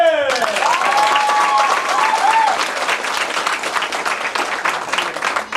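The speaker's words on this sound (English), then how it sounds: "Give them a big round of applause." Martial arts students at a belt ceremony receive loud, sustained applause from a crowd of clapping hands, dense and close, with a brief whistle near the start before the clapping thins slightly.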